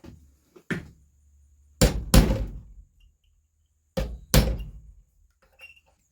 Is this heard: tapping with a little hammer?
yes